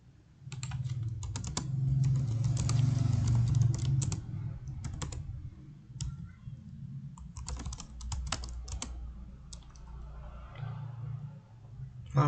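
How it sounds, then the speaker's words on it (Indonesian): Steady bursts of keystrokes on a computer keyboard, close and fairly quiet, with short pauses between runs of typing while entering database commands. "Setelah itu, saya mengetik show tables."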